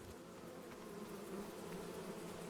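Bees swarm around hives in the video game Farming Simulator 25, a continuous, dense droning buzz that holds steady throughout at moderate loudness.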